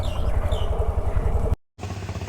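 A motorcycle engine idles in a tourist parking area at a fish landing centre in Bakkhali, a steady close rumble that cuts out for an instant before resuming.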